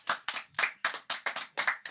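A short burst of clapping from a few people at a podcast recording, with sharp, uneven claps in quick succession, close and fairly loud, with no voices over it.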